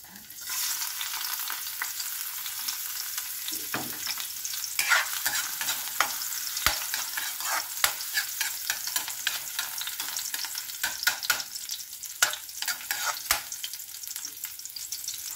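Garlic and ginger sautéing in hot oil in a pan, a continuous sizzle with repeated sharp scraping clicks of a utensil stirring, close and fairly quiet.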